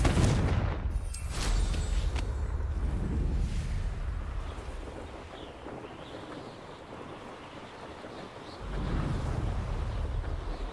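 A Confringo blasting spell explodes in Hogwarts Legacy: a loud, sharp burst in the first second, then a long, rushing, rumbling roar that fades and swells again near the end.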